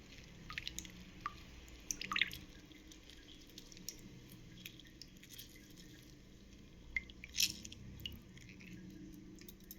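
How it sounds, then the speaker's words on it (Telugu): Lemon is squeezed by hand into fresh carrot and beetroot juice, producing quiet, sporadic drips and wet squishes with a couple of small glassy clinks against a faint background. "ఇప్పుడు దీనిలోకి ఒక నిమ్మబద్ద పిండుతాం"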